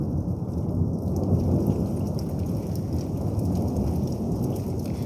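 Low, steady thunder rumbles through a thunderstorm alongside constant rain, a dense rolling roar that fills the whole stretch without pause.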